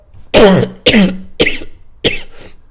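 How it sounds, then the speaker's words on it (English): Four harsh coughs in a row, close and loud, each one shorter and weaker than the one before. "I think I got a bit of rice cough"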